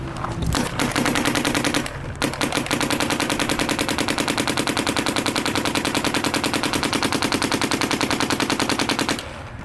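Planet Eclipse CS3 paintball marker fired on semi-auto, a rapid, steady string of loud, sharp pops running almost continuously for several seconds after a brief opening burst and short pause, close to the listener.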